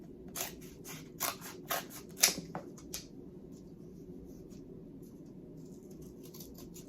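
A few quiet, crisp snips of scissors cutting packing material while wrapping a parcel, with short clicks spaced out in a calm room.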